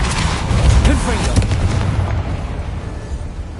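The Confringo explosion spell in a Harry Potter video game bursts as a loud, dense booming blast that rumbles and fades over a few seconds, with no clear talk.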